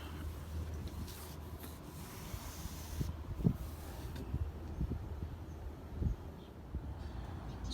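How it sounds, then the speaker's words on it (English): Clear coat on a carbon fiber hood being sanded by hand with 400 grit sandpaper, a soft continuous rubbing scrape with faint irregular strokes, quiet and close. "sanding it down with 400 grit, actually, not 600"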